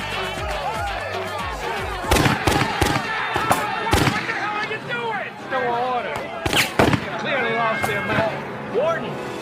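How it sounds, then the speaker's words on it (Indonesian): Gunfire from a prison warden shooting at inmates in the 2007 film Big Stan, heard as several loud sharp bangs in bursts over a busy mix of voices and film sound. "Pak Kepala merebut senapan lalu menembaki para napi"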